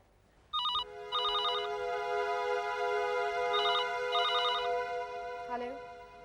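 A telephone bell rings in a tense TV thriller scene: two quick trilling bursts, a pause, then two more bursts, clear and close against a quiet room.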